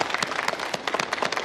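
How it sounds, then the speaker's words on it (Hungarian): A theater audience bursts into steady, dense applause, many hands clapping together at moderate distance with no one speaking over it. "és nagy tapsot neki."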